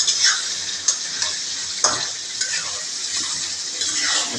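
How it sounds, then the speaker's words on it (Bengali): Broiler chicken and potatoes fry and sizzle in a pan as they are stirred, a continuous hiss broken by several sharp clicks of the utensil against the pan. "তার সাথে আলু মিক্স করে কষানো চলতেছে।"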